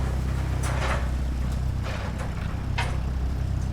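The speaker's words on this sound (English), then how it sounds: "Definitely sounds like tractor equipment." Tractor equipment unloads cargo in Microsoft Flight Simulator 2020, heard as a constant low engine drone with a few sharp metallic clunks and scrapes spaced apart.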